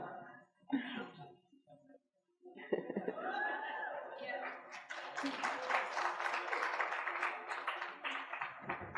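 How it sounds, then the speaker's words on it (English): Scattered laughter gives way to a modest round of audience applause in a hall during a speaker series talk, with light steady clapping that builds slightly and continues under the crowd. "I expect a little more applause than that"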